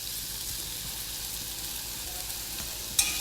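Garlic and shallots fry in a cast-iron cocotte with a soft, even sizzle, then one sharp utensil clink near the end, and no voices.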